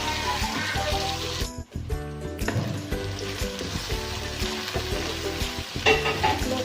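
Onions frying and sizzling in hot oil in a pan while being cooked to light brown for a Punjabi-style chicken masala, with a steady loud hiss and occasional stirring scrapes, no talking.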